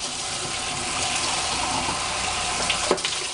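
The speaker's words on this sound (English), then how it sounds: "just rinse it out. Make another good rinse." Tap water rushes steadily over a hamster cage part being rinsed in a sink, a close, continuous gushing splash with a few brief clunks near the end.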